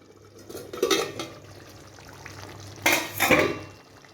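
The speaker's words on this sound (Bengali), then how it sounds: "ঢাকনাটা এবার খুলছি।" Lid lifted off a pot of simmering taro and chickpea curry, two bursts of metallic clatter and rattle a couple of seconds apart over quiet kitchen background.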